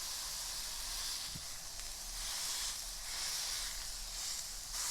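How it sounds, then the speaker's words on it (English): Smashed burger patties sizzle in a very, very hot skillet, a continuous loud hiss that swells and eases in slow waves, close up, with no talking. "Those look great, so we'll throw them into our very, very hot skillet. Give them a quick smash."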